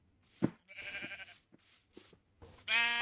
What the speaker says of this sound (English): Let's just lead these 2 sheep.